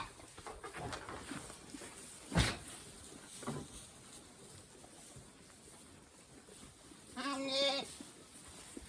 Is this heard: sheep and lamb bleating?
yes